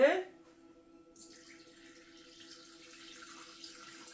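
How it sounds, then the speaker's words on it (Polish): Water, 300 grams of it, pours from a tap or jug into a Thermomix bowl while making a chicken étouffée, giving a steady soft splashing flow after a brief louder onset, with faint background hum. "Co tu dalej dajemy? 300 gramów wody."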